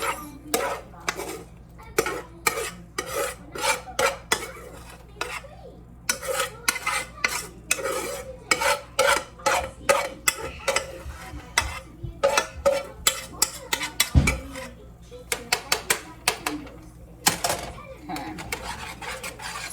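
A spoon scrapes and clatters against a pan as cooked rice is stirred in with sweet chili glazed pork, a steady run of close, rhythmic metallic strokes over a faint sizzle.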